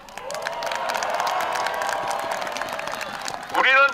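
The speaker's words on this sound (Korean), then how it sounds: "다시 한번 박수 쳐줍시다" A football crowd at a Suwon FC victory celebration claps and cheers loudly for a few seconds, then a voice breaks in at the end.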